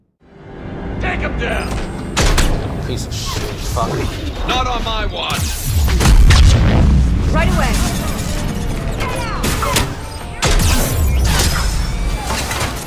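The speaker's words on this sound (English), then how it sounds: "I'm so tired of these grenades!" Grenades going off during a Mass Effect 3 Citadel DLC battle, heavy booms and crashes amid gunfire, with a loud blast near 6 seconds and another near 10.5, mixed under a voice shouting in frustration.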